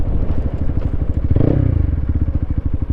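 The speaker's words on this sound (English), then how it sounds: "it's got such a low tick over, I feel like it's going to stall" A motorcycle idles low and lumpy nearby, each exhaust pulse thumping in a slow, uneven rhythm, with a brief rise in revs midway.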